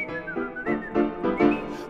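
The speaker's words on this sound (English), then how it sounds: "We whistle and we hum" Tuneful whistling of a melody in a performance of the Charles Ives song "Memories", the phrases rising and falling in steady bursts, close and clear, with no talk.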